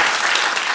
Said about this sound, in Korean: 우리 장로님들 나오셔서 선물 전달할 때 여러분 큰 박수로 한번 뜨겁게 환영해 주시면 감사하겠습니다